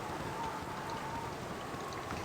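Rain falls in the video game Baldur's Gate Enhanced Edition as a steady, soft, hissing patter that stays even and continuous through the short stretch.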